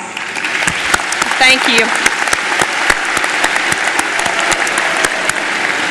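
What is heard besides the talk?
applause at a graduation ceremony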